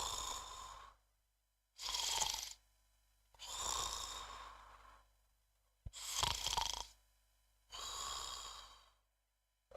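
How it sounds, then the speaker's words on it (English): A person snores in five slow, loud, rasping breaths with quiet gaps between them, close and alone without talk. "I'm sorry, I was just snoring."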